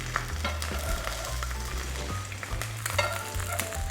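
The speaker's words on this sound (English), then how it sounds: "Add 1 teaspoon of vegetable oil to the pan and make fried eggs." Eggs frying in vegetable oil in a pan for bibimbap, a close, continuous crackling sizzle with small pops throughout, under a low steady hum and with no one speaking.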